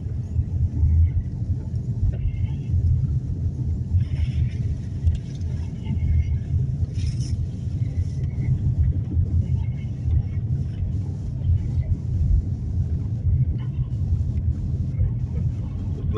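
Inside a car during a driving lesson, the engine gives a steady, low, droning rumble that stays fairly even throughout with only slight swells.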